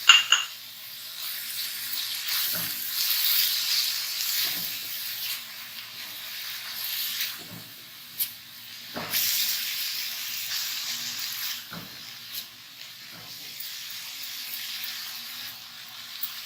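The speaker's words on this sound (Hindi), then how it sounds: "मीडियम फ्लेम पर हमने इसको फ्राई करना है और इसको शिमला मिर्च डालकर भी ज़्यादा देर तक फ्राई नहीं करना" Chopped onion and capsicum (shimla mirch) with garlic paste fry in a pan over a medium flame, giving a soft continuous sizzle broken by occasional stirring scrapes and light clinks.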